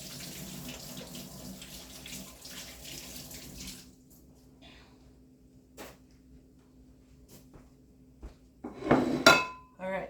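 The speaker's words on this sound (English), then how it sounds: "I'm going to wash my hands" A kitchen tap runs water into a sink for a few seconds as hands are washed, then stops, followed by clinks of dishes and a louder clatter nearby.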